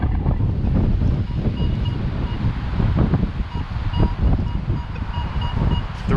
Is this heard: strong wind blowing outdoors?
yes